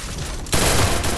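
Gunfire bursts in a battle royale video game, a quieter stretch giving way to a dense, loud volley of rapid shots that keeps going for the rest of the moment with no talk over it.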